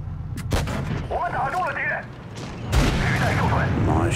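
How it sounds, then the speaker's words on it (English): Tank cannon fire in World of Tanks Blitz, with a sharp shot early, a heavy booming report later followed by rumble, and a voice talking over much of it. "Shot. Takes a hit from the T-49. Nice shot and nice little fire there."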